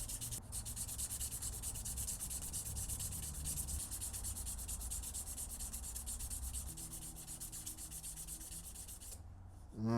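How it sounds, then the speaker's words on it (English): Fine-grit sandpaper rubbing steadily over a golf club ferrule during refinishing, a close, continuous scratchy hiss with a soft back-and-forth rhythm that stops abruptly near the end. "now we're going to go with the finer grit sandpaper again"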